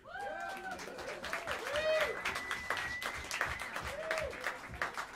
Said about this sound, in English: give a warm round of applause for Corey Garcia on the drums.